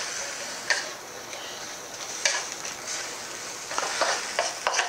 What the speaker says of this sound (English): If you're not hearing a little sizzle as you do this, you want to turn your heat up